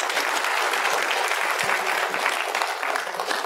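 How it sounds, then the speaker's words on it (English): Steady, dense applause from an audience at a children's science show about invisible crystals, sustained and fairly loud for the whole stretch with no voices over it. "Round of applause, please."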